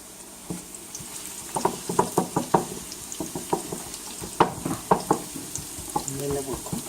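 Onions frying in a pan for spaghetti sauce, stirred with a wooden spoon: a soft steady sizzle under a run of rhythmic knocks and scrapes from the spoon against the pan, heard close with no talk.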